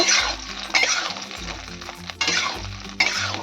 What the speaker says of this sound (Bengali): কুলগুলোকে আমি হালকা করে ভেজে নেব